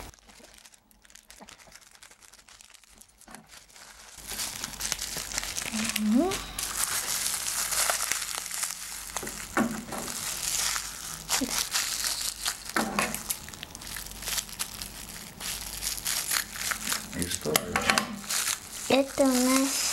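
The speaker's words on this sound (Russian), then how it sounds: "Давайте откроем сначала пакетик." Loud crinkling and rustling of a small plastic parcel bag being torn open and handled up close, with a voice talking briefly between the crackles.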